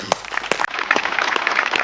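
Loud applause rises from a Marathi comedy show audience. A few sharp claps open it, and then dense clapping fills the rest of the stretch.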